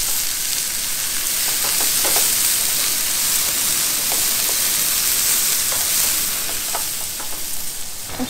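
Fish sizzles steadily in a cast iron pan outdoors, a dense even hiss of frying oil with scattered small pops and crackles, close and fairly loud with no voices.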